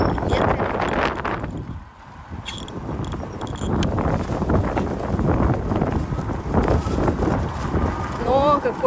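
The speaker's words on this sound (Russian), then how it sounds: "Какое-то потепление грядет, поэтому и ветер." Strong wind buffets the microphone outdoors on a hot day in Turkey, rushing and rumbling continuously, with someone talking underneath.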